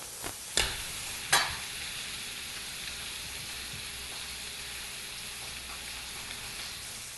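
Garlic sizzles in a hot frying pan alongside skirt steak, a steady close hiss of frying punctuated by a couple of sharp spatter bursts and light stirring scrapes early on.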